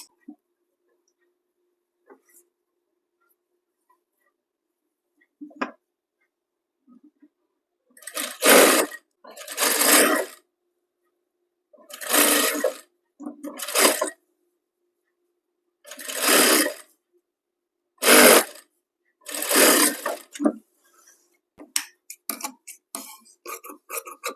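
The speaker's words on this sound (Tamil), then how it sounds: "இப்போ இங்கே கீழே ஒரு ஒன்னே கால் இன்ச்சில் வந்து ஒரு பீஸ் வச்சு தைக்க போகிறேன்" A sewing machine stitches a blouse sleeve piece in several separate loud bursts of rapid whirring, each lasting one to two seconds, with quiet pauses between them and faint handling clicks.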